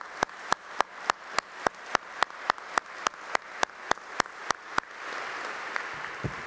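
An audience at an academic medal ceremony applauds with a string of sharp, evenly spaced claps. These give way to softer, diffuse clapping toward the end, with no voices.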